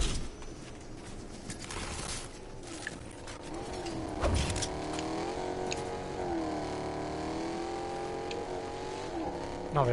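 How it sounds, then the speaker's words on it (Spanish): A car drives below in a battle royale game, a steady humming engine with shifting pitch as it moves and revs, heard at moderate distance. "Lo escucho abajo el auto."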